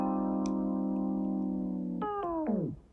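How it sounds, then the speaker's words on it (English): A Logic Pro slow-down fade effect on a sustained, tonal synth-like sound. The pitch holds steady for about two seconds, then sags and drops steeply in stuttering steps as the sound grinds to a halt near the end. "it's going to give me a different slowdown effect than what I previously had"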